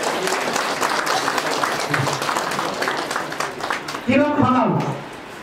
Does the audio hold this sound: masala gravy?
no